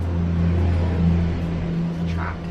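A truck passing outside gives a low, steady engine rumble with a humming tone, moderately loud from a short distance, swelling briefly and then easing off.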